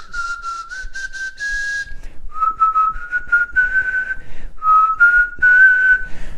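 One person whistles a wavering melody, the pitch sliding up and down in several sustained notes with short breaths between phrases, loud and close with no talking.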